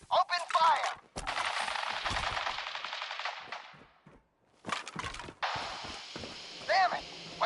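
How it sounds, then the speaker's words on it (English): Bursts of rapid automatic gunfire crackle loudly, pause briefly near the middle, then resume in a second volley of shots. "Men, open fire."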